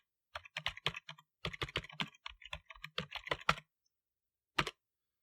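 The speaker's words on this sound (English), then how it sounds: "Got to type a message here." Bursts of clicky keystrokes on a computer keyboard as a message is typed, close and clear in quick irregular runs, then a pause and one final short flurry.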